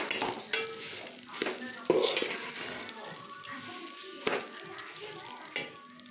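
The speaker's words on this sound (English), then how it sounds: "Stir it." Fried rice (ghee bhat) with raisins and cashews stirred in a pan over low flame: repeated scraping and clinking spoon strokes at an irregular pace over a soft sizzle, fairly close and moderately quiet.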